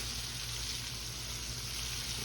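Chicken pieces fry in hot oil for crispy sweet and sour chicken, a steady, dense sizzle with no break, close by and fairly quiet.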